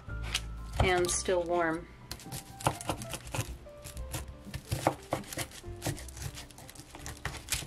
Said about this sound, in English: I'm just gonna cut it into 8 bars.